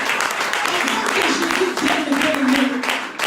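A church congregation applauds in worship, a steady wash of many hands clapping throughout while a preacher's voice and other voices carry on over it.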